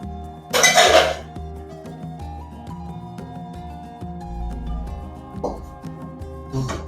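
Metal frying pan picked up in a home kitchen while making chilli bajji, a sharp metallic clatter at the start followed by lighter clinks and knocks against a faint tonal background.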